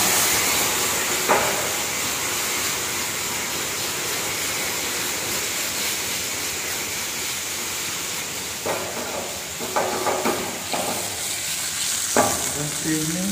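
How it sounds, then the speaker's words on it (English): Potatoes sautéing in hot oil in a pan make a steady, close sizzle with a few louder bursts of stirring and scraping near the end, and no voices. "So then I'm gonna add potato and the saute for 2 minutes."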